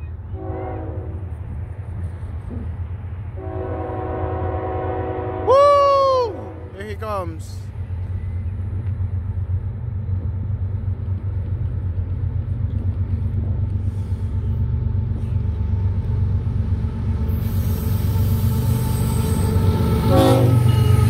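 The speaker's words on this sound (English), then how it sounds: "Look at that auto rack going by." A CSX autorack freight train passes northbound at Newburgh, a loud, continuous rumble of rolling cars with a brief horn blast early on, while people talk and call out nearby.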